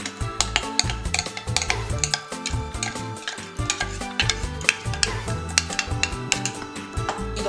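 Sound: stirring pancake batter with egg yolk in a bowl

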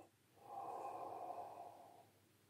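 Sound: breathing in through the mouth

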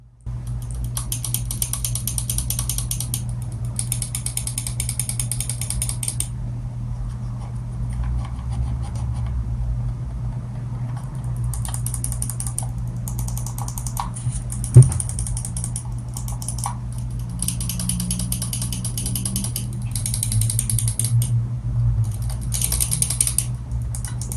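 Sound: gaming mouse button clicks

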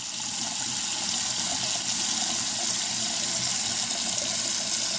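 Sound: water running into a sink

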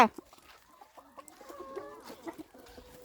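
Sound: chickens clucking on a Thai egg farm

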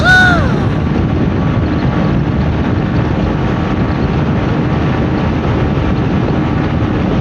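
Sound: strong wind blowing into microphone while riding motorcycle

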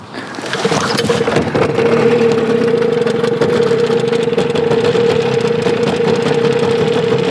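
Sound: car engine running, sounding low on oil

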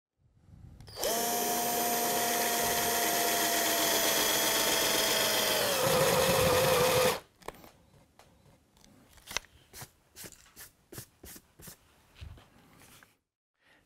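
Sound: drilling a hole with a 22mm spade bit

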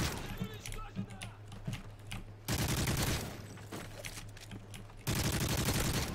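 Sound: gunfire in video game Call of Duty MW3

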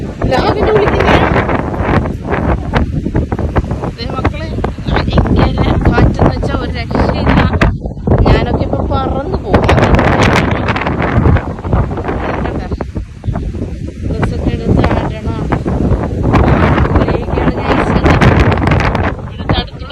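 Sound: strong wind at the seashore

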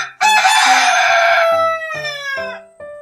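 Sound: rooster crowing

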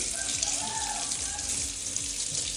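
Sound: washing coriander and spinach leaves under running water

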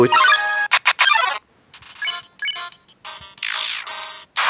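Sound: phone call ringing in the video game Undertale

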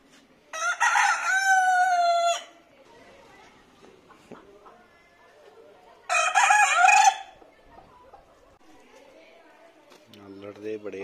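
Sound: aseel roosters crowing and clucking

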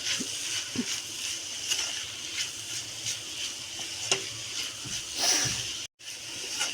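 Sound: stirring bitter gourd curry with salt in a pan

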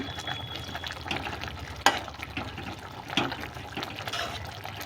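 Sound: fish added to pan for curry, frying

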